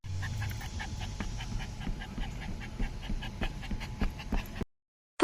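A puppy pants steadily at close range in quick, soft breaths with a few faint whimpers, continuing for about four and a half seconds before cutting to silence.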